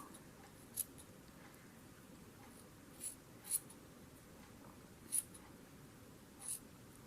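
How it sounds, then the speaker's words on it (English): Scissors snip through thick batik fabric and felt in a few sparse, separate cuts, crisp and close against a soft background hiss. "this batik material not very easy to cut, and also the felt not very easy to cut"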